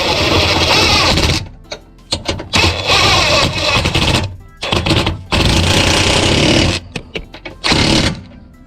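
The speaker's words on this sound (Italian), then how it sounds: "questa volta utilizzerò un trapano a impatto" Loud, close bursts of an impact drill hammering and whirring while replacing a Fiat Panda's lower engine mount, several runs of a second or two separated by brief pauses and quick triggers.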